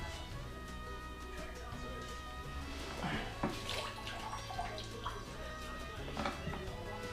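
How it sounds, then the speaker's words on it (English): Leftover water tips out of an emptied beer keg and splashes and trickles faintly and unevenly for several seconds, quiet and close. "There's a little bit of water in there. I can tip that out."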